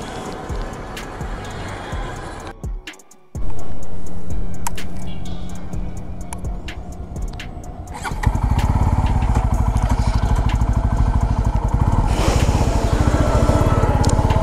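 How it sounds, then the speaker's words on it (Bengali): A Bajaj Pulsar F250 motorcycle engine idles, then revs up and runs steadily and loudly up close, with a brief cut before the ride gets going. "চলেন বাইকটা একটু চালায় দেখি"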